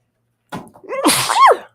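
A single loud sneeze up close, a sharp inhale followed by an explosive burst, with a brief rustle just before it.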